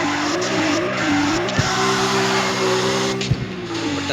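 Tires squeal in long sustained skids as a Toyota Supra drifts in the CarX Street racing game, the engine droning underneath, with short bumps and clicks breaking in twice.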